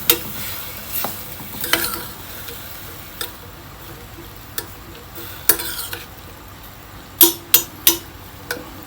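A spatula stir-fries stuffed-omelette filling with seasoning sauce and oyster sauce in a pan. Sharp scrapes and clacks come at irregular moments over a soft, constant sizzle, with a quick burst of strikes near the end.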